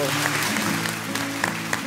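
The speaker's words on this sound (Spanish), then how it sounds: "Un aplauso, por favor." Brief audience applause at a Paraguayan Poet's Day event, steady clapping blended with background voices and low tonal sound.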